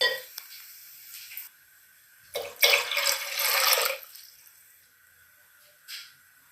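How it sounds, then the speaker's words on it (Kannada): Water poured from a glass into a pressure cooker while making wheat payasa, a sweet wheat pudding, with a short splashing gush in the middle and a brief trickle near the end, alone with no talk. "ನೀರನ್ನು ನಾವು ಹಾಕ್ಕೊತ ಹೋಗ್ಬೇಕು."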